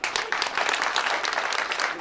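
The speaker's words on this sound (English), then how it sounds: "let's clap for this gentleman" Audience applause for Mr. Vincent Apado at a groundbreaking ceremony for a clothing and textile facility, a dense steady burst of clapping lasting about two seconds, fairly loud, with voices mixed in.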